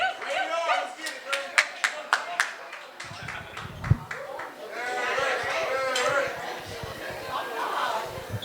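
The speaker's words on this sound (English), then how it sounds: "A round of applause, everyone, for Omid and Aaron." Guests at a wedding reception clap after an introduction, a run of sharp hand claps rising into a steadier crowd applause under continuous talk and chatter.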